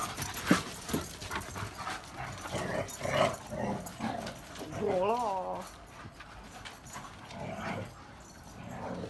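Kangal, Güdük and Akbaş dogs romp and scuffle nearby with panting, a few whimpers and yelps, and scrabbling paws, while a person talks intermittently over the play.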